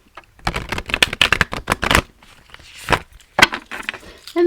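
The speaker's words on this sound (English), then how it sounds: "I'm going to shuffle one more time just to look at those, how pretty this deck is." A tarot card deck is riffled and shuffled by hand, producing close, crisp bursts of flapping and clicking card sounds in quick rhythmic runs with brief pauses.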